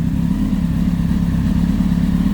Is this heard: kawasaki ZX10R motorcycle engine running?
yes